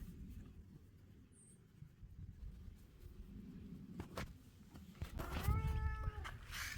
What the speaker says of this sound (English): The cats really enjoy hanging out around the cabin